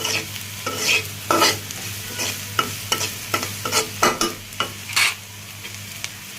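Food frying in oil in a pan after salt is added, a soft steady sizzle broken by about a dozen rhythmic scraping strokes of a spoon stirring, close and clear with no talking.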